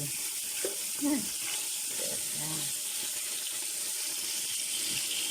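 Meat and vegetables for Arabic margog sauté with parsley, garlic and onion in a pan, a faint, steady sizzling hiss running throughout with a few soft kitchen knocks and a quiet voice in the background.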